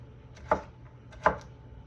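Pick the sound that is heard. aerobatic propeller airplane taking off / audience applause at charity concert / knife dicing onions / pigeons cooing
knife dicing onions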